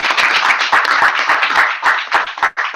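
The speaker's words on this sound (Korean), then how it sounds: "우리 서로 박수로 환영하는 마음으로 시작하겠습니다." A small group at a health coaching session applauds in welcome, with loud, close, vigorous clapping forming a dense continuous patter that dips briefly near the end before resuming.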